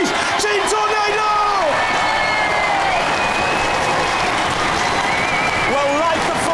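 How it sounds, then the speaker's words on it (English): Studio audience applauding and cheering for the UK robot combat champions at a televised robot fighting final, a dense steady clatter of clapping with whoops, while an announcer talks over it. "One more last round of applause for the UK champions, please."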